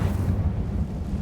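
A low, rumbling whoosh of fire magic in Hogwarts Legacy, a single heavy burst that rolls on as a dense bass roar, loud and close with no talk over it.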